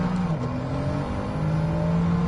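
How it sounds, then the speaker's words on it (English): A low, steady Mercedes engine rumble in the video game Gran Turismo 7 drones throughout, smooth and continuous with a slight rise in pitch, no voices. "Low Mercedes rumble."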